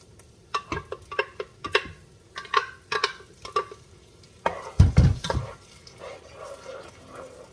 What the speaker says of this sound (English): I'm going to be adding my blended pepper.